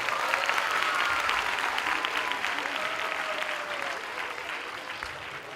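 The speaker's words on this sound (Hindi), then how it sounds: "एक जोरदार ताली इनके लिए।" A large audience at an evening event with specially gifted children, including visually impaired players, gives warm, continuous applause that holds steady and dense, easing slightly toward the end.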